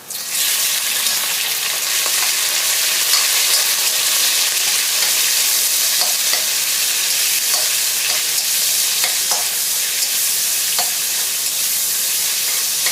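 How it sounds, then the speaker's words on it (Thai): Sliced fatty pork stir-frying in golden fried-garlic oil for pork pad prik king. A loud, continuous sizzle with occasional stirring scrapes, close up and with no talking. "น้ำมันกระเทียมเจียวให้เหลืองใส่หมูหั่นลงไปค่ะ"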